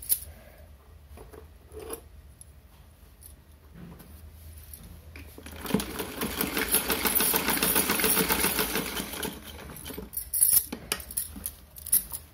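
A sewing machine stitches along the folded fabric edge of a small Navratri outfit for a Laddu Gopal doll. Quiet handling noises come first, then a loud, steady whirring run of stitching lasts several seconds before tapering off into a few clicks.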